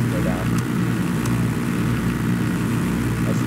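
A helicopter flies nearby in the shooter game Ghost Recon Breakpoint, its steady droning engine and rotor noise loud and continuous, with brief voice chatter over the top.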